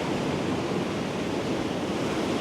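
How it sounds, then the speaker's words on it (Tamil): Steady broadband wash of water waves breaking against the shore on a family crab-catching outing, a continuous close rushing roar with no clear individual breaks and no talk. "தண்ணி வந்து அடிக்குது பார்த்தீங்களா"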